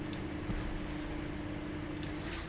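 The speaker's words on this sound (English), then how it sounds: "Apologies if you can hear a washing machine in the background" A washing machine runs in the background of a home room as a steady, faint low hum and drone, with a couple of soft clicks and no voices.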